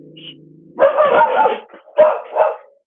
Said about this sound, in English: I'm really sorry, my dog's about to bark.